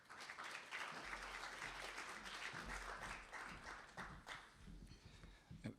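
Audience applause after a speaker's introduction at a policy forum on trilateral trade cooperation among Korea, the EU and the U.S.: dense, sustained clapping from a sizable crowd, steady for the full stretch with a low rumble underneath.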